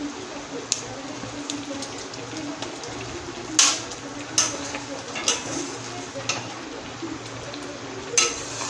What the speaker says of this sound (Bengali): দেখুন তরকারিটা ফুটছে।